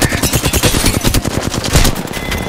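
Hip-fire bursts from a gun in a video game: loud rapid automatic fire rattling continuously, close and dense, with no talk over it.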